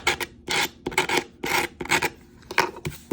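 Glitter is scraped off a craft surface in a series of short, rasping strokes, about a dozen close and distinct passes in an uneven rhythm with brief gaps between them.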